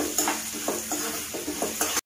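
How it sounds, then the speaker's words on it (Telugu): Onions fry in a pan with a constant crackling sizzle, broken by regular scraping strokes of stirring, close and steady. "ఉల్లిపాయలు బాగా ఫ్రై అయిపోయాయండి"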